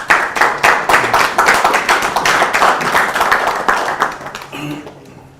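Summit audience clapping in quick uneven bursts, loud and close at first, then tapering off and fading as a few voices come in near the end.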